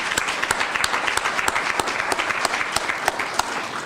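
Steady applause from an audience at a political investiture event in Jonquière-Alma, a close, even clatter of hands with distinct individual claps standing out, continuing throughout.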